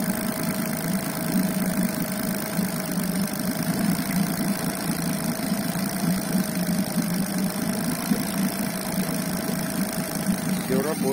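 A Tohatsu 30 EFI outboard engine runs at a steady idle, a constant close hum and drone with a faint vibrating buzz, while a person speaks briefly.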